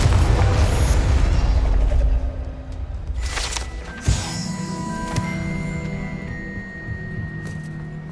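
A Confringo fire spell goes off in Hogwarts Legacy: a loud rumbling boom fills the opening two seconds, then a sharper crack near four seconds, followed by lingering magical whooshes and tonal shimmer as the blast dies down.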